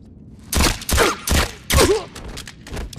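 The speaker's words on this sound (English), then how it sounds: "Nice shooting." Gunfire in the video game Uncharted 3, four loud, close bursts of shots in quick succession with a booming low end, each lasting a fraction of a second.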